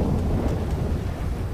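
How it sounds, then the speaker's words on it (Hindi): Steady rain with low rumbling thunder in the GTA video game, a continuous dense wash of storm noise filling the whole stretch with no talking. "भाई साहब यहाँ पे बारिश रुकने का नाम नहीं ले रही है।"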